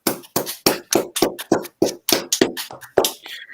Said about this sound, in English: That deserves a little round of applause in itself, I think.